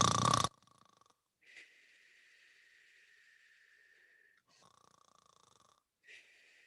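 Someone imitates snoring during a yoga breathing exercise, making soft, drawn-out rasping throat sounds on slow breaths after a brief loud burst at the start, with quiet pauses between.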